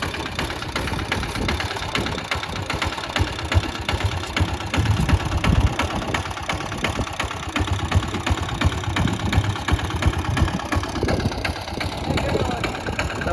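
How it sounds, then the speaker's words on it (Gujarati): A tractor's engine chugs steadily and loudly with a knocking, rattling texture as it climbs a slope on a farm, with people talking over the running motor. "માપનું ટ્રેક્ટર ચડી ગયું."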